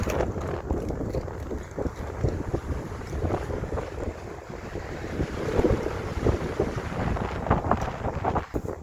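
Strong wind blowing outdoors, a loud, continuous roar with heavy gusts buffeting the microphone and no talk over it.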